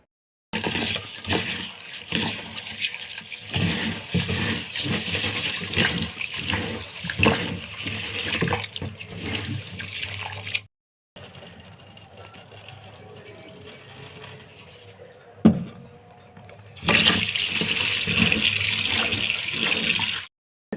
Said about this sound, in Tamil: நல்லா 4-5 தடவை கழுவிட்டு மூடி வச்சிடலாம்